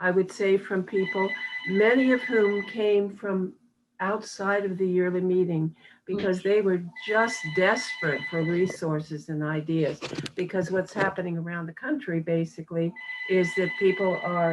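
A telephone rings in repeated bursts in an indoor setting, heard under a person speaking continuously throughout.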